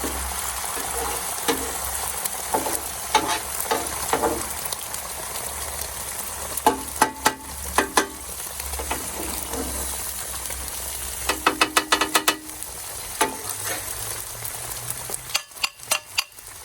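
Eggs cook on a Blackstone flat top griddle with a continuous soft sizzle. Scraping and tapping of a metal spatula come and go irregularly, with clusters of sharper clicks near the end.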